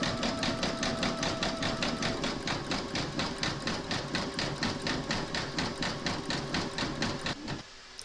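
An embroidery sewing machine satin-stitches a koala appliqué, its needle hammering in a fast, steady, even rhythm close by for several seconds before stopping abruptly near the end.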